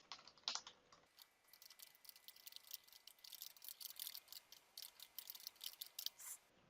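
Typing on a computer keyboard while entering text into a report form, a steady run of soft, quick key clicks with no talk.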